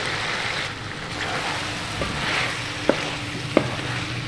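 Zucchini and chicken with tomatoes cook over a slow flame, a steady close sizzle with soft stirring and two sharp spoon taps against the pot toward the end.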